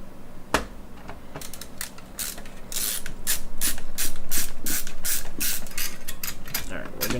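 A screwdriver with a small bit clicks and ratchets while driving the memory card screws into a 3D-printed GameCube shell prototype, a sharp snap followed by a dense run of quick, close mechanical clicks.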